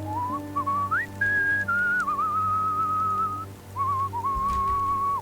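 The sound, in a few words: character whistling in video game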